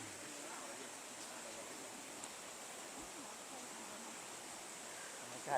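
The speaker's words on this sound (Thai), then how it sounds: "ฟังเสียงน้ำตกนกร้อง" A natural nine-tier waterfall running with heavy flow in Phu Pha Lek National Park, Thailand, makes a steady, faint, even hiss of rushing water that carries on unbroken for several seconds.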